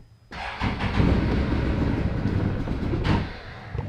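The engine of a nearly new 2019 Can-Am Defender UTV, with 3 hours on it, starts abruptly and runs with a steady rumbling drone for a few seconds, then quickly shuts off, leaving a quieter fading tail.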